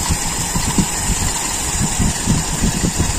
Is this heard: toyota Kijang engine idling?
yes